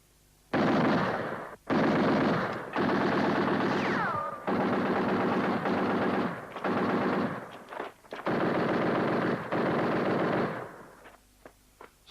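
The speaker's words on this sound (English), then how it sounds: "Fire a few rounds." Machine gun fire in a 1969 war film about the Battle of El Alamein; loud, close sustained bursts of automatic fire separated by short pauses, with a few sharp single shots trailing off at the end.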